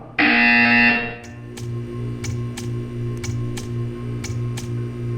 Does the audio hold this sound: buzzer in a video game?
yes